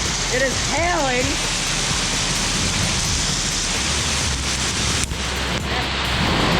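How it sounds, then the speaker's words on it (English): Hail pours hard during a lightning storm, a dense, loud, unbroken roar of pelting ice and rain, with a voice briefly rising over it near the start. "Look, this is hailing."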